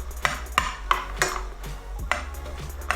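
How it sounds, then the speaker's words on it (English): A spoon stirs chopped onions and garlic through melted butter in a pan, clinking and scraping against the metal in a quick series of sharp knocks over a soft sizzle, close by with no talking. "I'm just going to add in my onions and garlic. And I'm just going to stir it up in just a little bit."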